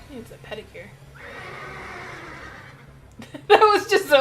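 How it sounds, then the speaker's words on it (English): A horse in Parasite Eve 2 whinnies in a long, wavering neigh, followed by a sharp burst of loud voices or snorting at the end. "That was a horse noise."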